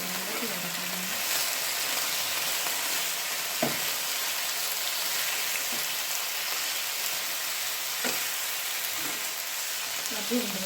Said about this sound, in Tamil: நல்லா சிக்கனை வதக்கிட்டேன்னா ஒரு 7 நிமிஷம் 10 நிமிஷம் வரைக்கும் நல்லா வதக்கிட்டேன்